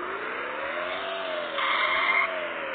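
A classic Russian car's engine roars and revs in a car simulator video game, with a rising tone and a brief louder tire-squeal burst in the middle, heard alone without talk.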